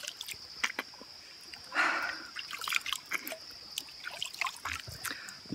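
Clear, clean forest stream trickling over stones, with soft drips and gurgles of running water close by, fairly quiet and without talk.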